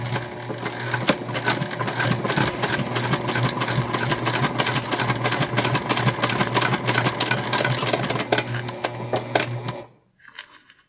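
A sewing machine runs steadily and loudly for about ten seconds while stitching a gusset with backstitching, its rapid mechanical whir continuous before it stops abruptly, followed by a faint rustle.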